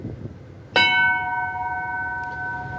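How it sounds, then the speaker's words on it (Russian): A single clear strike of a ship's bronze bell on the forecastle rings out, then its bright tone lingers and slowly fades over background hum. "На баке есть рында, или он же колокол."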